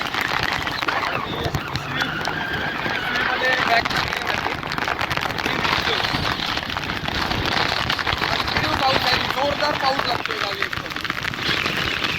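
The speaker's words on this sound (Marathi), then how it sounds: "पाऊस भयंकर पाऊस आणि कंटिन्यू सतत पाऊस पडतो आहे" Heavy, continuous monsoon-style rain in the Konkan region of India in May, a dense steady hiss of drops pattering on surfaces. Someone speaks over the downpour the whole time.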